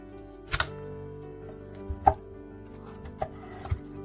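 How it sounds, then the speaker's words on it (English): A knife chops through pumpkin, cutting it into wedges on a board, with a few distinct, sharp thunks spaced irregularly at close range over a quiet background. "After we have removed all the seeds, we need to cut down the pumpkins into wedges."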